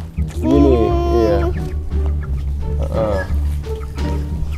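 A chicken clucks and squawks loudly up close while being caught and held for a bath, with raised, wavering calls early on and again later, over steady low background noise and people talking nearby.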